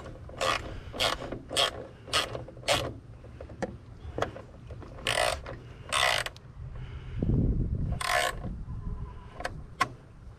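A ratchet tightens a snorkel fitting on a Ford Focus RS, giving close, crisp bursts of rapid clicking repeated about ten times, with a brief rubbing scrape in between.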